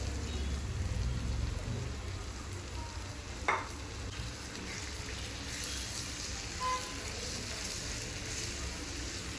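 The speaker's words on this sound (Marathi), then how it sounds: "आता आपण कलेजी मॅरिनेट करून घेतलेली ती मी टाकते." Marinated chicken liver (kaleji) frying on a hot tawa, a steady soft sizzle and crackle throughout with a single brief clatter near the start, fairly faint and without talk.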